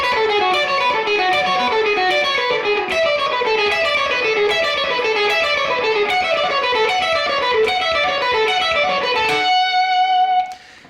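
Electric guitar running a fast rock picking exercise, ascending in repeating note patterns across three modal positions, steady and loud for about nine seconds before ringing out on a final held chord, no talk.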